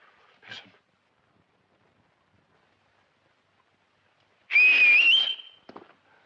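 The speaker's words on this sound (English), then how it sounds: "But I did learn how to whistle again." A brief faint sound, then after a pause a single clear rising whistle, about a second long, close and fairly loud.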